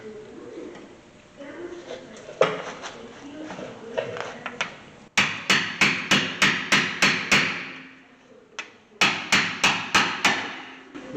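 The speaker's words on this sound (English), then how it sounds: "I'll have to get an impact screwdriver" An impact screwdriver struck with a hammer to loosen screws on the brakes of a 2013 Hyundai Santa Fe: after a stretch of quieter rattling and handling, two runs of sharp, evenly spaced metallic blows ring out close by, about seven in each burst.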